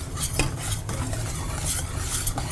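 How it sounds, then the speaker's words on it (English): Flour being whisked into a pot of cream of blue crab soup, a steady scraping stir against the pot with light clinks of the whisk, close and continuous with no talking. "We're going to whisk this in until we get the thickness that we want."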